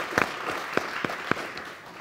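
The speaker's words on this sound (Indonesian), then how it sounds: "Oke, kasih tepuk tangan dong buat semua." A studio audience at the Mata Najwa talk show's year-end event gives brief, sparse applause, with a handful of distinct claps standing out over a soft wash of crowd noise.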